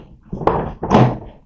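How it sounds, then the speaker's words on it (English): A bag of gun-cleaning waste drops into a trash can, giving two dull, close thuds about half a second apart. "In the trash can it goes."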